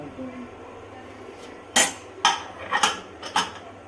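Metal pot lid handled in a home kitchen, giving several sharp clanks and clinks spaced a fraction of a second apart over a low background hum and faint voice.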